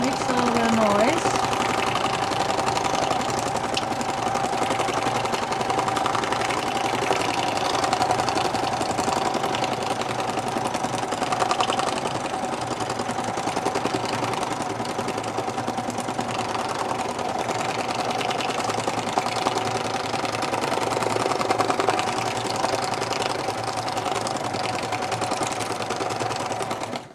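A domestic sewing machine stitches a teabag gift envelope, a continuous close mechanical whirring and rapid needle clatter running steadily throughout, with occasional quiet speech over it.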